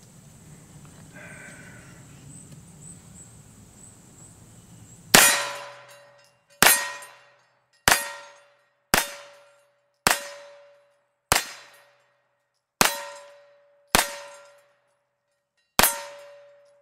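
A 9mm pistol fired at a Halloween pumpkin outdoors in Murphy, North Carolina: after a quiet stretch, nine sharp, loud cracks land roughly a second apart, each trailing a short metallic ring.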